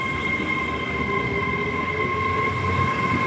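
Great Western Railway Class 802 train, unit 802111, rushing past on the main line, a steady loud rumble of wheels on track with a sustained tonal whine throughout.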